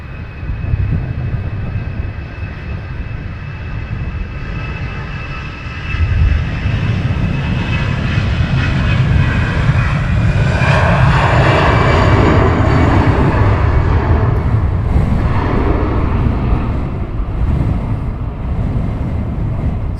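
Airplanes at Luton Airport roar loudly in gusty wind, a jet engine drone that swells over several seconds and then holds as a broad, rumbling wash.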